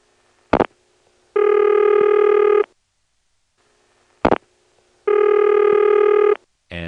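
Ringing tone on a 1977 step-by-step telephone exchange line: two long steady buzzing rings, each about a second and a quarter, each preceded by a sharp click, with silence between them.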